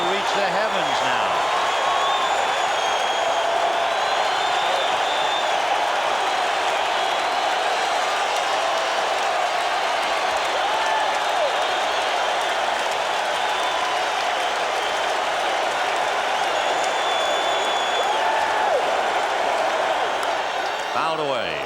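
A baseball crowd in a packed ballpark keeps up a dense, steady roar of cheering and applause with the Sox down to their last strike, sustained and loud with no break.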